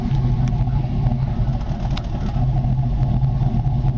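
A 2002 Avalanche truck engine runs steadily at the tailpipe exhaust, a close, low rumbling drone with slight pulsing and a few faint clicks over four seconds.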